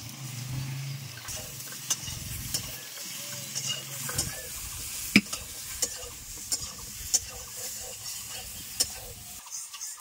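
Chopped boiled potato pieces go into a pan and are stirred, with a soft sizzle, scraping and occasional sharp clicks of a utensil against the pan, fairly quiet throughout.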